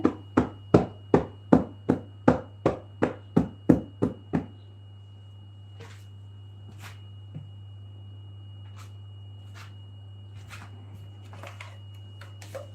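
A chocolate mould is tapped on a surface about a dozen times in a quick, even rhythm, close and crisp, then stops, leaving a quiet hum with a few faint clicks.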